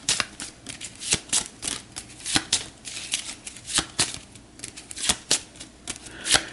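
Mythos cards for the Cthulhu: Death May Die board game are shuffled by hand, giving a close, crisp series of rapid riffling snaps and flicks in uneven bursts, with no talking.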